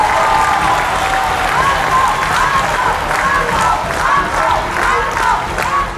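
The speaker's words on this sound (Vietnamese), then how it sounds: "Mọi người hãy cho Tùng một tràng pháo tay để Tùng có thể lấy năng lượng nè" A studio audience on the Vietnamese competition show The Champion claps loudly and steadily, mixed with shouts and cheering voices from the crowd.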